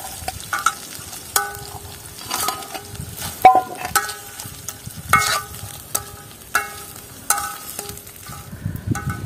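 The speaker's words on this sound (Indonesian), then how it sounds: "Langsung kita aduk." Vegetables stirred in a frying pan over heat, a utensil scraping and clattering in repeated strokes against a steady background sizzle, close and fairly loud, with no talking.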